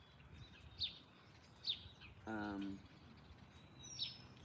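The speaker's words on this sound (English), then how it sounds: "Okay, I got a sparrow up there." A sparrow chirps outdoors in three short, separate calls spread across a quiet background, with a brief low buzzing noise in the middle.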